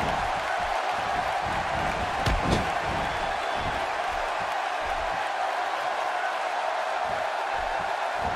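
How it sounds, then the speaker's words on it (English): A wrestling arena crowd at a Smackdown match between Becky Lynch and Bayley roars steadily throughout, with a brief thud of impact partway through. "You can hear this crowd"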